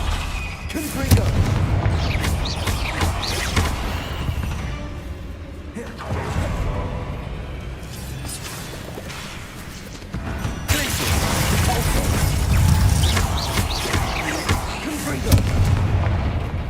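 Confringo fire spells exploding in the Hogwarts Legacy game, a string of booms and crashing bursts spread through the passage, some heavy and close, with a player's voice talking over them.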